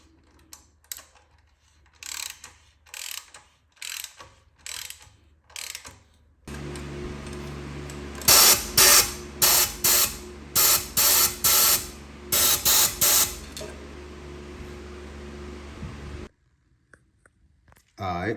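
Metal threads being cut with a hand tap during a drivetrain install, heard as a steady grinding, ratcheting drone with sharp repeated clicks and squeaks as the tap turns and backs out, preceded by scattered light clicks.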